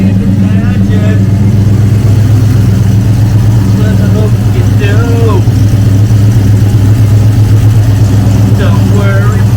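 A 1971 Ford Torino GT engine runs after a bad starter solenoid connection is fixed, a loud, close, steady idle rumble that fills the whole stretch while people talk over it now and then.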